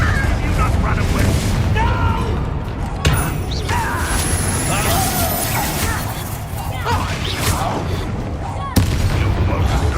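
Repeated Bombarda spell blasts from Hogwarts Legacy, loud booming impacts at about 3 and 9 seconds over a constant bed of dense game noise and battle clatter, with voices talking throughout.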